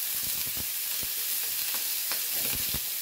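Sausages, chicken and kofta sizzle steadily in a frying pan, a continuous close crackle with scattered sharp pops, no voices over it.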